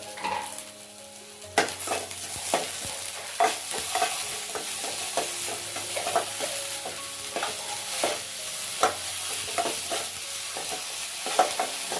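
Ginger garlic paste sizzles in hot oil in a pan while being stirred for idli manchurian, steady frying hiss broken by scraping spoon strokes and light clinks against the pan.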